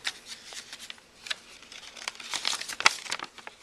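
Sheets of paper are folded by hand for an origami box, giving close, soft crinkles and crisp rustles with brief sharp creasing snaps, and no talk.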